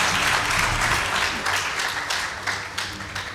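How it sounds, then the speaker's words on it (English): An audience at a school debate between Light Academy and Bishop Gatimu Ngandu girls applauds the winners, dense continuous clapping that slowly thins out near the end. "Please give them a round of applause."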